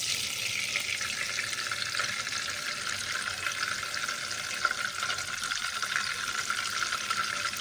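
Oil hisses and sizzles steadily in a hot pan as it goes in for frying shrimp, a continuous bright crackle at moderate level with no talk.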